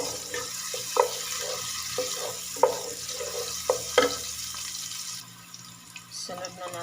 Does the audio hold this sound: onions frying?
yes